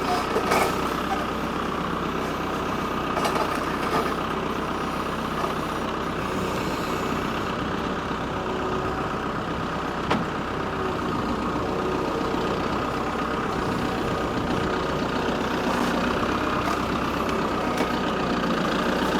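A large diesel tractor engine idles steadily nearby for a long stretch, a constant low rumble with a few faint clanks on top.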